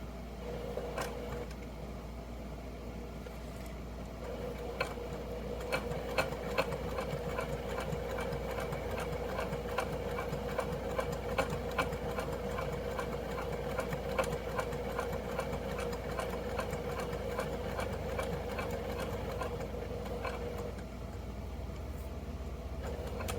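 A sewing machine stitches a fabric purse, giving a steady mechanical whir with rapid, regular needle ticks that speed up and slow down in short runs over a low motor hum, with no voices.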